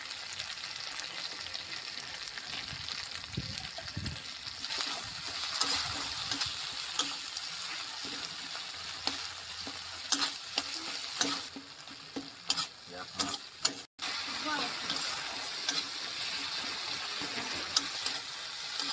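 Cumin paste masala fries in a pan with a constant hiss, broken by irregular scrapes and clatters of stirring; a faint watery trickle sits underneath and no one speaks.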